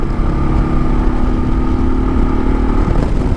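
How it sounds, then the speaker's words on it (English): A 2022 Kawasaki KLR650 cruises in fifth gear at highway speed, its single-cylinder engine droning steadily under heavy wind rush, loud and close for a few seconds. "I'm cruising in 5th gear right now, 56 miles an hour, and if I want more, I got more."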